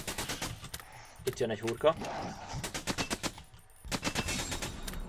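Gunfire from a weapon in the pre-alpha video game Until Last Breath: bursts of rapid shots cracking in quick succession, interrupted by someone talking over the action.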